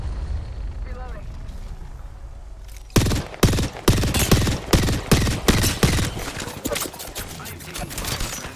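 Gunfire erupts during a ranked video game match, a rapid series of sharp, loud shots in irregular bursts. The shooting starts abruptly after a quieter stretch of background ambience with faint voices and keeps going for several seconds.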